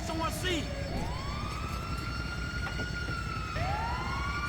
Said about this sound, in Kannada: ಆಂಬ್ಯುಲೆನ್ಸ್ ಸೌಂಡ್ ಹಚ್ಕೊಂಡು ಹೊಂಟಿ ಬಿಡೋದು